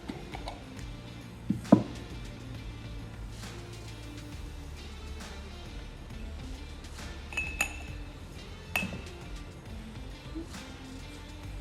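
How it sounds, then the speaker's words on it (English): A tablespoon stirs penetrating oil stain in a glass, giving scattered light clinks and taps against the glass, with a couple of sharper strikes standing out over a steady low background hum. "I'm going to stir very well the oil, in this case Super Duper Oil."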